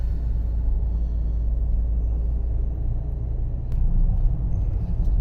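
A car climbs a mountain hairpin road on a road trip from Dalyan to Datça, giving a steady, close, low engine and road rumble throughout with no talking.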